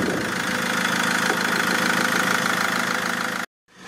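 A warmed-up Mercedes engine with a suspected overpressure fault in its injection rail idles steadily and loudly up close, holding an even hum for about three and a half seconds before cutting off abruptly into silence.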